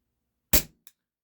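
A Taurus PT 24/7 G2 CO2 pistol fires one aluminum BB with a sharp, snappy crack from the blowback, followed quickly by a faint click, close and otherwise silent.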